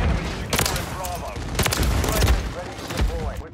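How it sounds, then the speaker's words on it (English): Gunfire cracks in the shooter game Call of Duty MW3, with several sharp, loud blasts close together over a busy mix of battle noise, while voices talk throughout. "Ah, damn. That's that shotgun."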